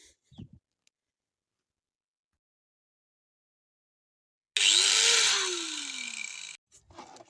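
After a long silence, an angle grinder whirs up loudly, its motor pitch rising then falling away over about two seconds before cutting off.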